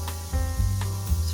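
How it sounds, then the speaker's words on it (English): Onions sizzling in butter in a pan for risotto, a steady soft hiss with faint crackle, moderately quiet and continuous, with no talking. "I don't know if you can hear it, it's beginning to sizzle."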